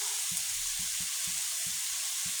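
Dried fish curry with chili powder sizzles loudly in a pan as it is sautéed, a constant bright hiss with a regular series of soft low thumps from stirring; close, with no voices.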